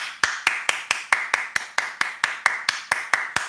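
Single pair of hands clapping in a steady, even rhythm, about four claps per second, sharp and close with nothing else around it.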